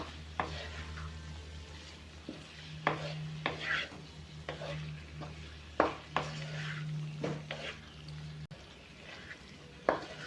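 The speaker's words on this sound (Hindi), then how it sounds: "इसे भी डालकर अच्छे से मिक्स कर लीजिए।" A spoon scrapes and taps in a pan as roughly hand-crushed paneer is mixed with capsicum and spices, with a faint sizzle underneath and intermittent clinks, close and fairly quiet.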